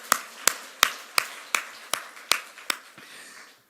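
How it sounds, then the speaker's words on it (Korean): A church congregation in Gimpo claps about nine times in a steady, measured rhythm, sharp and close, then falls quiet. "하나님께 박수의 영광"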